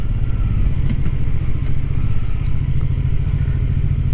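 A BMW F450GS motorcycle engine drones steadily while riding on the road, a close mid-pitched hum with light clatter and no talking.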